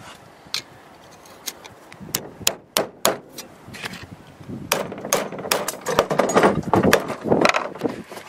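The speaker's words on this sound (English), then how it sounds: "Okay, I'm just going to hammer that in there." Repeated hammer blows drive a roofing nail into a wooden muskrat float, sharp close knocks coming slowly at first then in a quicker, louder irregular run with no talking.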